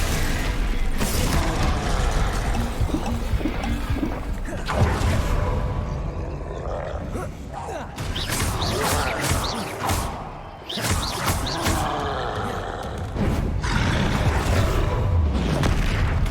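Spell-casting combat in the video game Hogwarts Legacy, with repeated booms, thuds and bursting blasts in quick, uneven succession over a dense, continuous mechanical rumble.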